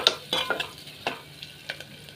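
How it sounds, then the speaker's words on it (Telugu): Onions and green chillies with a pinch of turmeric fry in a pan while a spoon stirs them, giving a close sizzle punctuated by several distinct scraping strokes, with no one speaking. "బాగా ఎర్రగా వేయించుకోవాలండి ఆనియన్స్,"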